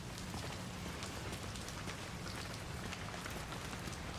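Steady rain patters across surfaces in the survival horror game Resident Evil Requiem, a dense, even hiss with faint droplet ticks, alone and unbroken.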